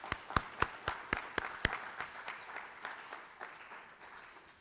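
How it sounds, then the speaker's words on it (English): Audience applause at a school graduation ceremony, opening with a handful of sharp, distinct claps that blur into a light, scattered patter before fading out. It sounds fairly quiet and somewhat distant. "Let's give them a round of applause, please."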